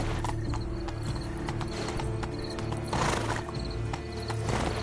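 A horse in a PS4 video game neighs loudly over rapid, rhythmic hoofbeats of galloping, up close and without talk.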